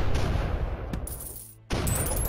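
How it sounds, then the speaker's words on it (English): A Glock pistol fires in the Shell Shock Live video game, a sharp crack followed by a brief near-silence, then game noise resumes abruptly and stays loud. "I'm about to shoot my Glock at him"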